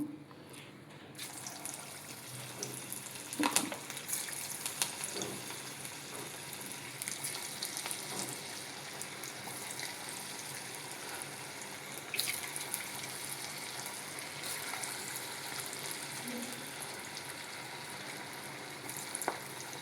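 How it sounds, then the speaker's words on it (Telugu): Cabbage Manchurian balls deep-frying in hot oil, a faint continuous sizzle and crackle with occasional sharp pops and clinks, no talking. "వీటిని ఇప్పుడు మనం నూనెలో ఫ్రై చేస్తాము."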